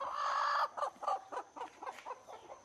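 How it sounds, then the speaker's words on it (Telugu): Native country chickens on a small backyard farm cluck in a rapid series of short, close calls after one longer, louder opening squawk, with no talking. "దాని తర్వాత ఈడ కోడి ఉంది, దీన్ని కూడా లేపుతున్నా."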